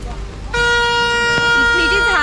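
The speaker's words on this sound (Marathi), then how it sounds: "इथे काही लोक तुम्ही भोंग्याचा आवाज ऐकू शकता जे इकोसाठी भोंगे वाजवत आहे" Horns sound at the Munnar echo point, a misty, rainy hillside: after a short pause one loud, sustained tonal horn blast takes over with a brief second tone, under a voice speaking nearby.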